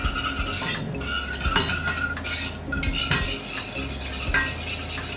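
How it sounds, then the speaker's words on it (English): Utensil scraping and clinking against a pan while scrambled eggs in butter are stirred gently, a steady run of close metallic scrapes with a faint sizzle underneath and no voices. "So I'm just going to give it a light stir."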